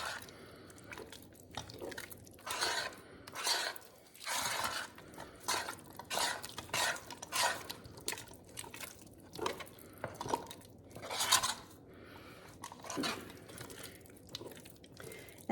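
Thick, glossy old-fashioned fudge being stirred by hand in a pan as butter is worked in, giving a steady series of close scraping and sticky clunking strokes with wet, slapping texture and short pauses between bursts.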